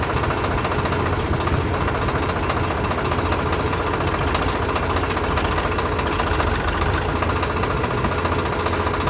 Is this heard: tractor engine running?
yes